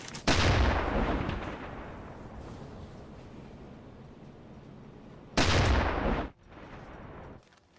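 Torpedo explosion striking a ship in the submarine game UBOAT: a loud, deep booming blast with a long rumbling tail, then a second heavy burst cut off abruptly, with no talk.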